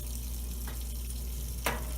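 Tap water running into a sink or basin to wash a fursuit, a steady close rush with a brief louder splash near the end.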